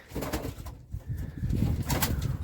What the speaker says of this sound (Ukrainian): Такі гарні білі голуби.